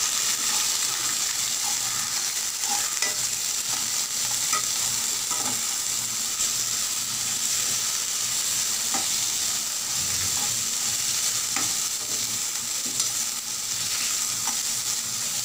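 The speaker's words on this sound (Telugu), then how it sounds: "ఇప్పుడు ఇలా మనము టమాటా, పచ్చిమిర్చిని ఆనియన్స్ని మూడింటి వేసేసుకొని వేయించేసుకోవాలండి." Tomatoes, green chillies and onions fry in a pan for chukakura (sorrel) pachadi, giving a steady close sizzle throughout with occasional stirring clicks and scrapes.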